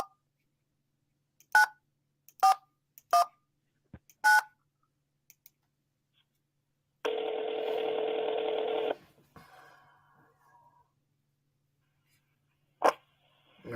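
Telephone keypad tones dialing a mobile phone: four short beeps spaced about a second apart, then a two-second ringback-like tone and a fainter trailing tone, ending with one more short beep; no talking.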